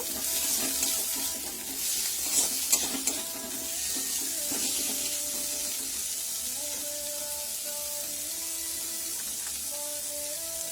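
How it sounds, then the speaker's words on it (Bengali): Green beans and onion stir-frying in hot oil give a steady hiss with occasional stirring scrapes, loud and close, while a melodic tone runs faintly underneath. "বিনসটা প্রথমে দিলাম, এটা হালকা একটু স্টার ফ্রাই করে নেব"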